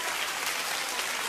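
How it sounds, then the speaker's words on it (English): A church congregation claps hands together in worship, a steady dense patter of many hands for a moment, fairly soft and diffuse. "Clap your hands, all you people."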